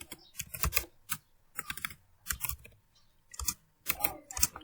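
Bursts of clicky keystrokes on a computer keyboard while Python code is entered, coming in quick clusters separated by short pauses, close and fairly loud with no voices.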